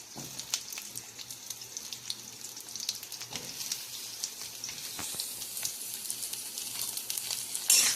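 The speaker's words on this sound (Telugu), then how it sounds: "ఈ ఆయిల్ కొంచెం వేడెక్కినాక మనం కట్ చేసుకుందామని మనం కట్ చేసుకున్న మునక్కాయలు వేసుకుంటున్నాను." Cut drumstick pieces fry in hot oil over a medium flame, producing a steady, moderate sizzle with a few light clinks, and no talking.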